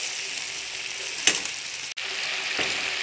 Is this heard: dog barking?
no